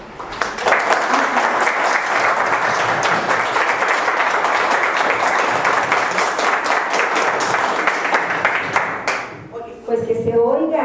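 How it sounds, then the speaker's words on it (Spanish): A conference audience gives loud, sustained applause after a lecture session, dense clapping holding steady for about nine seconds before fading, followed by a brief spoken voice. "que de verdad sea un aplauso fuerte por esta gran ponencia"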